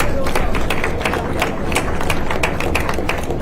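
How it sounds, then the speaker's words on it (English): Audience applause at a government session, brisk, irregular claps close by with a crowd murmuring underneath, continuing steadily throughout. "Can we have a big round of applause for him"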